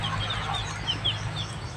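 Chickens cluck softly in a rural yard, a few short high calls scattered over a low background hum, fairly quiet and alone without talk.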